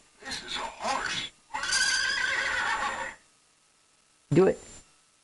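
A young girl imitates a horse whinnying with her voice, giving two short calls and then a long, wavering neigh, followed by a brief burst after a pause.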